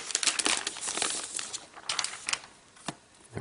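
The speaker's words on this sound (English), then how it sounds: "we're just going to pull this tab to break the seal, and we're going to slide it out of this envelope" Paper crinkling and rustling as a tab is pulled to break a seal and a new Retina MacBook Pro is slid out of its envelope, with a series of close, irregular crackles and scrapes, no talk.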